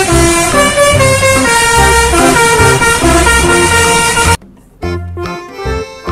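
A toy school bus sounds a loud, tonal horn-like melody over a buzzing motor, playing continuously before cutting out abruptly, then resuming briefly near the end.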